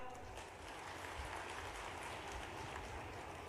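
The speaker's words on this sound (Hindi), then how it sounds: "अगर सही है तो ताली बजा दो।" Broad, steady applause from a crowd at a political rally, heard at a distance and fairly faint, continuing without a break.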